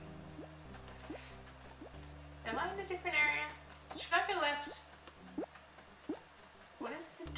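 Water drips in the video game Milo The Fuel Run, a steady series of single plinking drops spaced about a second apart, heard under a person talking.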